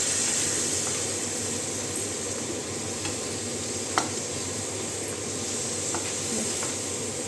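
Masala sautéed with a splash of water in a pan, a loud continuous sizzle and hiss with occasional light clinks of the stirring spoon.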